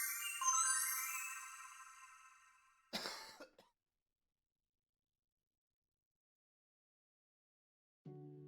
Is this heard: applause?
no